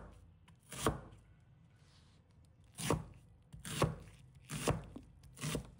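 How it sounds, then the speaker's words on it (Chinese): Half an onion being chopped into small pieces with a knife on a board: five sharp, close chops spaced unevenly, loud and alone with no talk. "再准备半个洋葱， 把它切成小块。"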